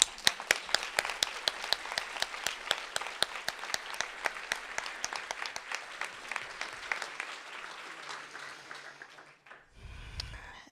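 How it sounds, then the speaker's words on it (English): An audience at an awards ceremony applauding, a brisk, fairly distant patter of many hands that thins out and fades over several seconds before a brief low thump at the end. "Please join me to dedicate an applause to them."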